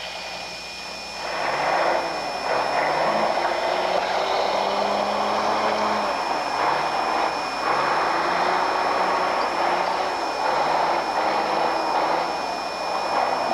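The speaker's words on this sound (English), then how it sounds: "The bulldozer operator comes up, picks up some dirt, moves the dirt over, attempts to cover the hose" A bulldozer rumbles steadily up close while pushing dirt over a fire hose during fire break construction, its engine droning continuously with slight shifts in pitch as the tracks and blade work.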